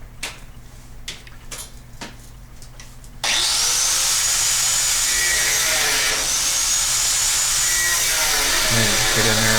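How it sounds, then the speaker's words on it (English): A step drill bores through sheet metal on a replica Sdkfz.222 scout car build, starting after a few light taps with a loud, steady high-pitched grinding whine that holds for several seconds. "I really like those step drills, especially for sheet metal."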